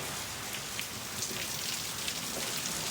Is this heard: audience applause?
no